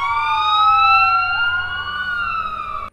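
A voice imitates a fire engine siren in a wavering, rising and falling wail, loud and close, sustained for about three seconds with no other sound.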